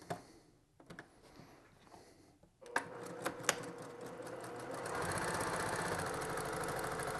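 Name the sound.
sewing machine stitching quilt fabric pieces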